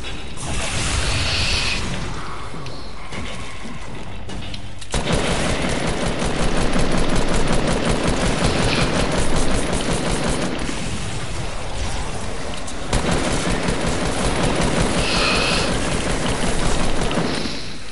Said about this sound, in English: I need to deal damage with assault rifles to these fat boys.